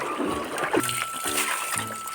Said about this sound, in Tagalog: Sarap ng tubig dito guys. Bukal oh. Natural na natural.